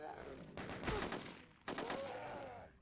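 An assault rifle fires in the video game Resurrection of Dawn 3.0, two short bursts of rapid shots, fairly thin and quiet, each trailing off into a brief echo, with some speech mixed in.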